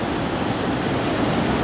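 Snowmelt waterfall in the Kashmir mountains, a continuous broadband rush of falling water, steady and enveloping with no breaks or voices.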